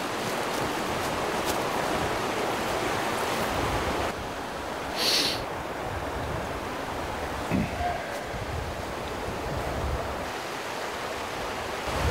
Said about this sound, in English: We're getting some of that wind through here too.